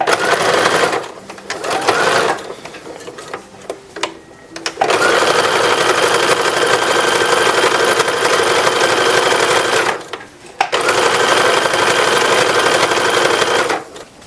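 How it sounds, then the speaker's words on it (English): A sewing machine runs up the hem of a 1930s-1940s style toddler wrapper in short bursts, then in long steady runs of rapid close stitching, with brief quiet pauses between runs. "Now we're going to stitch the hem."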